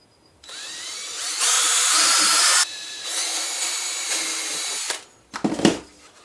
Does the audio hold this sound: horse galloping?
no